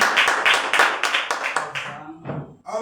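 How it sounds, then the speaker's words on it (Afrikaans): A church audience at a welcome claps their hands in a lively burst of applause that trails off into scattered claps, with a voice speaking near the end. "Kom eens geef een handen klap"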